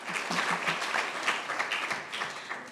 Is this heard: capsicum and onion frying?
no